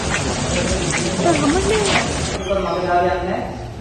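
Steady heavy rain hisses across the whole clip, a dense broadband wash, with a voice talking over it partway through.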